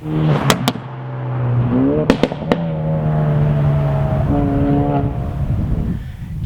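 A Ford Focus RS catback exhaust droning at idle and revving, punctuated by several sharp pops and bangs, loud and close.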